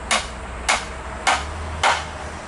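Hammer blows drive nails into wood while building a saw horse, four sharp, evenly spaced strikes about half a second apart, close and alone.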